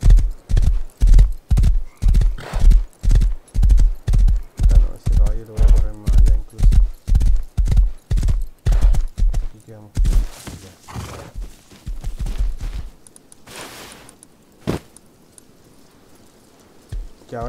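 Horses in the video game Rust clop steadily with rhythmic hoofbeats for about ten seconds, joined by loud whinnies and neighs, then fade into softer ambient noise with occasional thumps.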